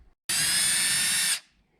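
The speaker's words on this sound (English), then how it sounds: "Okay, then I drilled a 1/4 inch hole, a 1/4 inch deep." A power drill bores a quarter-inch hole into a Trex composite decking board, one steady high whine lasting about a second, close and loud, starting and stopping abruptly.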